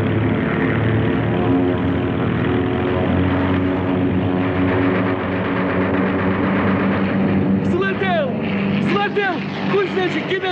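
A propeller airplane engine runs loud and close in a steady drone, holding strong throughout as the aircraft takes off, with voices shouting over it.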